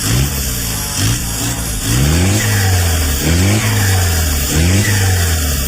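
An off-road Jeep with an SZ+ engine and a KMT90 single-lever 4x4 gearbox is revved hard and loud close by, giving about five rising and falling revs over a rough, throbbing idle.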